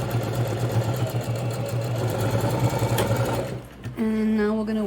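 A sewing machine back stitches a toiletry pouch lining, a steady close mechanical whir with a rapid needle beat that stops and starts again near the end.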